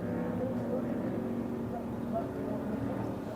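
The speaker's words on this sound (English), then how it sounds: "You can hear the big boats in the background." Large offshore racing powerboats at a Lake of the Ozarks shootout make a low, steady engine drone in the distance. The rumble holds constant and stays faint, with talk from nearby over it.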